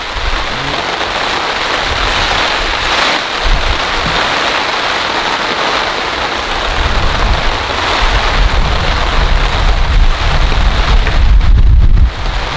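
Heavy rain pours onto a tent at a campsite in strong wind, a loud, dense, constant hiss of drops on fabric with gusty buffeting swelling toward the end, no voices.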